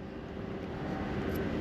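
A drone hums steadily overhead near a workshop, a constant whirring drone of moderate loudness that holds without a break.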